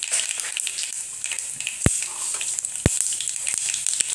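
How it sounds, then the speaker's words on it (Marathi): Mustard seeds crackle and sizzle in hot oil for a tempering, a steady close frying hiss with sharp pops scattered throughout. "तर फोडणीसाठी टाकूया मोहरी"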